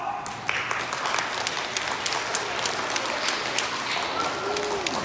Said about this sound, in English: By applause only.